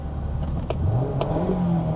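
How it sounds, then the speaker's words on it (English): A Mazda ND Miata engine revs steadily, its pitch rising and falling through a moderate, continuous drone with a couple of brief sharp clicks along the way; no talking is heard. "this is a very strong and powerful muscle car"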